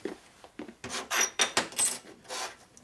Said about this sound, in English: here's our washer lapping tool